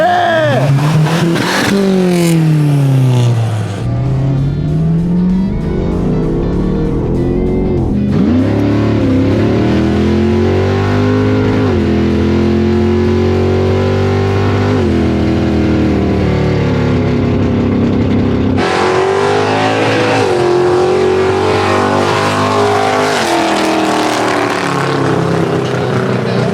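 A $3,500 drag race car accelerates hard down the strip, its engine loud and close, rising in pitch through several gear changes over a long continuous run.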